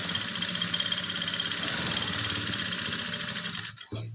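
A sewing machine runs in one steady, buzzing stretch while stitching the cup dot of a bra-type blouse, then stops abruptly just before the end.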